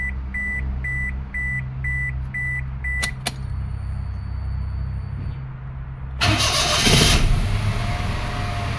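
A 2005 Toyota Passo with a previous no-start fault, its dashboard chiming rhythmically, then a click and the engine cranking and catching into a loud, rough idle near the microphone.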